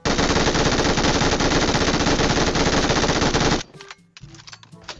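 Rapid automatic gunfire from PUBG Mobile rattles in a loud, continuous burst for several seconds, then cuts off abruptly, leaving faint game noise.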